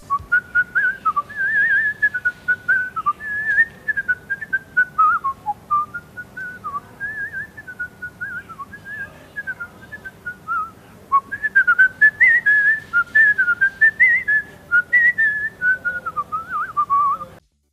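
A professional lip whistler performs a melody on a variety show stage, producing a clear, sustained, wavering tune in continuous phrases with brief breaths between them.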